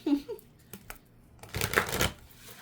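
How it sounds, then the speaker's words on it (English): Tarot cards being shuffled, a brief soft riffle early on and then a louder, denser burst of card shuffling lasting about half a second near the end, with no talk. "One more shuffle."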